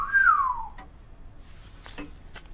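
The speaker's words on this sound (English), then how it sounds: "I never knew a frog could whistle." A single short, clear whistle slides downward, then faint scattered clicks and small sounds follow in near quiet.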